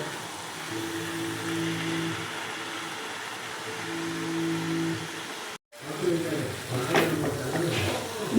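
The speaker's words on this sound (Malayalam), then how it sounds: "മീൻ പൊടിഞ്ഞു പോകാത്ത രീതിയിലൊന്ന് ഇളക്കുക" A spoon stirs sardine and raw mango curry in a clay pot, soft scraping over a steady low hiss, a brief cut, then louder clattering stirs near the end.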